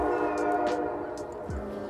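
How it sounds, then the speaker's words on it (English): A train rumbles by in the distance with a sustained horn tone drawn out across the moment, plus a few scattered nearby clicks and knocks outdoors in the morning. "A lot of trains this morning."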